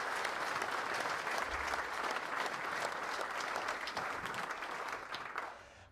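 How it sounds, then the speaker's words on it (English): Steady, full audience applause at a dirt modified racing hall of fame induction ceremony, a dense wash of clapping from a large crowd that holds evenly and tails off at the very end. "How about a round of applause for them,"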